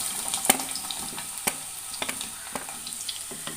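Potato pieces fry in coconut oil in a pan, a continuous close crackling sizzle with scattered sharp pops and ladle taps, no one speaking.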